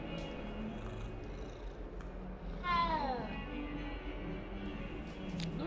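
A cat in Hogwarts Legacy purrs in a low, continuous rumble, then gives one clear rising-and-falling meow near the middle, fairly close and alone apart from a faint background hum.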